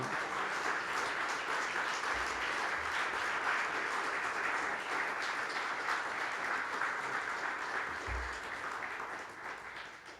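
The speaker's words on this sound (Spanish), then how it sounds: "Dale un aplauso al Señor, hermano" Applause rolls through a church congregation, a thick, continuous patter of many hands clapping at once, holding steady for most of the stretch before thinning slightly toward the end.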